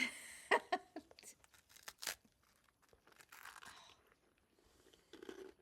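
Teeth crunch into a hard, slow-roasted bagel-like bread, a few loud close bites followed by softer crackling chews and crumbly rustling.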